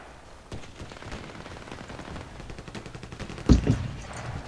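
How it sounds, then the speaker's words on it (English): Heavy video game gunfire rattles in a dense, continuous stream of shots, peaking in a loud burst near the end, with no talk over it. "that's a lot of bullets going everywhere"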